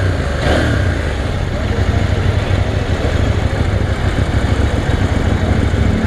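A KTM Duke motorcycle engine idles nearby, a steady low rumbling drone that holds even and continuous for the whole stretch, moderately loud, with no talk over it.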